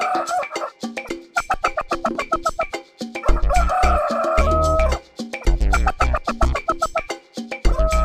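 A chicken clucks in quick, repeated bursts, close and lively, with deeper thumps joining partway through and a springy, rhythmic feel throughout.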